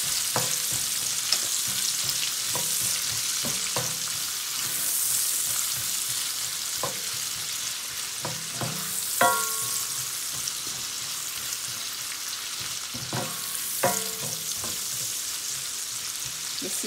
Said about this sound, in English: So I'm just gonna let this saute for about 2 to 3 minutes, but I'm gonna stir it up, that way it will not burn the garlic.